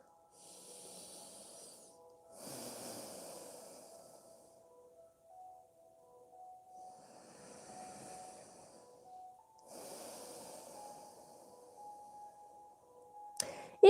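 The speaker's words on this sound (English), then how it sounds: "breathe through your nose" Slow, soft breaths drawn and released through the nose during a yoga session, in four separate airy waves with quiet gaps between, faint and close, ending with a brief click.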